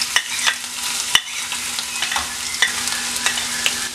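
Ginger and garlic sauté in hot oil in a pan, a soft steady sizzle broken by sharp clicks and scrapes as a utensil stirs against the pan, close and alone with no talking.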